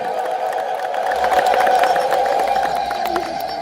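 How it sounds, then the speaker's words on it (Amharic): A large congregation ululating in praise at a church gathering in the Kidane Mehret compound, a loud sustained shrill chorus of many voices that swells in the middle and carries on throughout. "እልል ብላችሁ አመስግኑት እግዚአብሔርን"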